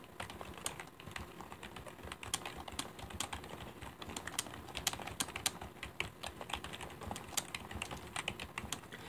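Rapid, steady typing on a computer keyboard, with dense, irregular key clicks running throughout at close range and no voices.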